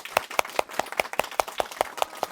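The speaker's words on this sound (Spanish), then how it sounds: "Vamos a darle otro aplauso a Verónica." An audience at a literary gathering applauds author Verónica Murguía with sparse, rhythmic clapping, about a dozen distinct, evenly spaced claps sounding close and clear.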